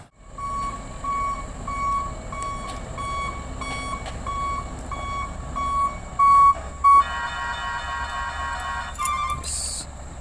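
A Scania truck's reversing alarm sounds as a run of evenly spaced, clear beeps over a low engine rumble, followed near the end by a denser electronic tone and a couple of sharp bursts.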